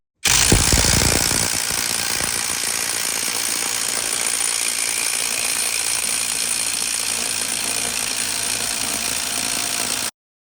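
A 12 volt Hyper Tough cordless tool on a 1.5 amp battery pumps a hydraulic pressure tester, a close, loud, continuous rattling hammer-like drone that runs steadily for about ten seconds, with no talk.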